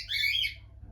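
A single loud, close bird squawk bursts out harshly and fades within half a second, over a low background hum, with a dog and other birds nearby in a home.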